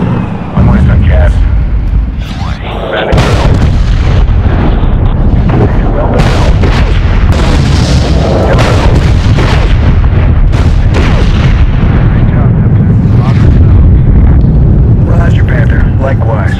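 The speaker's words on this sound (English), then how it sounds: "I see trucks, Rabbit. Hit them." Heavy booming explosions from an air strike on trucks and tanks roll through a Medal of Honor battle scene, loud and continuous with rumbling blasts and crackling debris, while voices talk over the combat.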